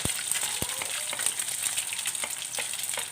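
Hash browns frying in a pan, a steady dense sizzle crackling close up without pause, with occasional sharper pops and spatters.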